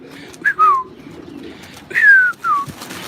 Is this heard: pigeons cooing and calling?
yes